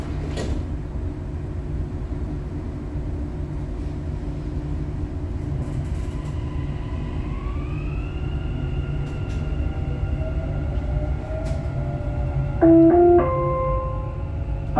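A Dubai Metro train runs along the line, its steady low rumble heard from inside the car with a rising electric motor whine as it accelerates and a few brief tonal beeps near the end.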